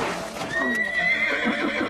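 A horse whinnies in a drawn-out neigh close by, with soft hoof clip-clops underneath, loud and lasting just under two seconds.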